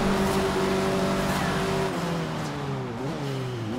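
A Honda Civic Type R engine in the racing game Forza Horizon 3 drones loudly and steadily at full throttle. Its pitch holds, then drops and climbs again through several gear shifts, with no talking.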